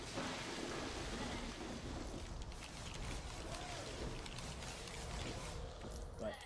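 Rain pouring from a rain cloud inside a train in a LEGO Harry Potter video game, steady hiss of rainfall with low thunder rumbles underneath and quiet voices over it.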